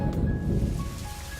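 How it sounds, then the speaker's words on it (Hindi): Heavy torrential rain pours in a dense, steady hiss close by, with a deep rumbling undertone like distant thunder, loud throughout and free of voices. "उसी पल आसमान से मूसलाधार बारिश शुरू हो जाती है"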